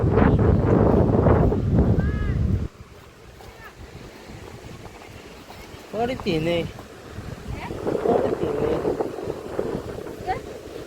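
Wind gusts and sea waves wash against the shore at Gopnath in a steady rumbling roar, with heavy wind buffeting at first, then swelling surf under brief talk.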